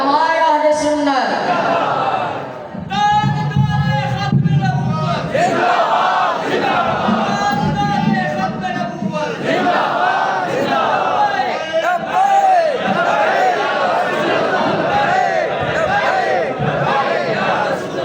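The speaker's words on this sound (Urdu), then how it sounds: "پھر ایک دفعہ نعرے لگائیے گا، نعرہ تکبیر، نعرہ رسالت، نعرہ رسالت، علماء اہل سنت" A large crowd at a madrasa turban-graduation gathering loudly chants religious slogans in call-and-response with a leader's voice. The massed shouts rise in repeated waves and carry on throughout.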